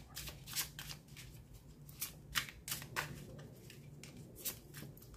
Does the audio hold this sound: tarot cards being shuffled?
yes